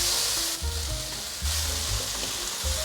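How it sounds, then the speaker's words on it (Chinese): Tomato and black mushrooms stir-frying in a pan for a vegan dish: a loud, steady sizzle with rhythmic scraping strokes as the ingredients are tossed, close up. "番茄放进来大略拌炒一下，现在放入黑美人菇"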